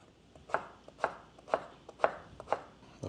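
A knife chops through zucchini and other vegetables for ratatouille on a cutting board, five crisp, evenly spaced cuts about half a second apart, close and clear with no talking.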